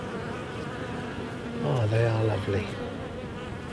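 Honey bees buzz at a hive entrance, a close dense hum that swells as one passes near, under a man's brief remark.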